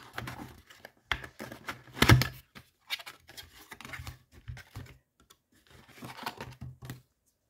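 A large jar of body scrub is opened by hand, with a series of soft clicks, scrapes and a crinkling of packaging heard up close in a quiet room.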